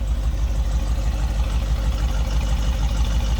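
A 1969 Ford Mustang Mach 1 with a 428 engine idles steadily, its exhaust giving a deep, continuous low rumble close by with no break or revving.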